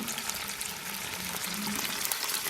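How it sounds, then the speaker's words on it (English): Peas sizzle and crackle steadily in hot oil, a dense continuous frying hiss close up with no talk, during preparation of a vegetable rice and stir-fried vegetables family meal. "So I'm adding in our peas direct into the oil."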